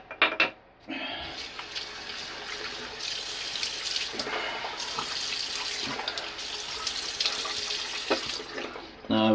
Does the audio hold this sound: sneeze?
no